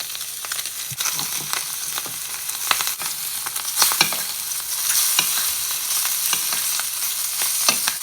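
Garlic and parsley fry in butter that has begun to burn, giving a steady, close, dense sizzle with scattered sharp crackles and pops throughout.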